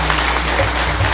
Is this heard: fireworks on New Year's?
no